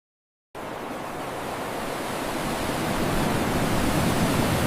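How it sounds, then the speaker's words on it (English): Ocean waves wash steadily onto a sea turtle nesting beach, a continuous loud surf roar that swells slightly louder as it goes on, with no voices. "close enough to see the waves."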